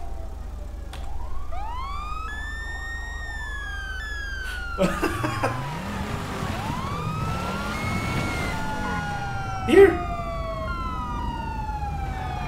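Wailing police car siren in GTA 5 Online, rising and falling sweeps overlapping from several units, with a brief engine rumble and a sharp thud; a single word is spoken.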